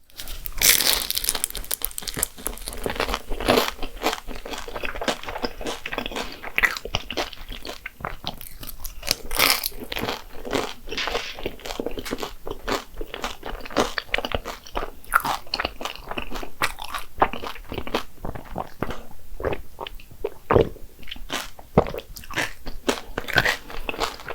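Crisp, crackly bites and steady chewing of flaky-crusted egg tarts, Portuguese-style pastel de nata and KFC versions, close to the mic, with dense crunches throughout and no talking.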